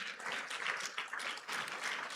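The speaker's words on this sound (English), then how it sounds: "Please keep clapping for him as he turns up." An audience at a corporate quiz event claps for a keynote speaker as he walks up, with soft, fairly distant clapping that keeps up evenly across a short stretch.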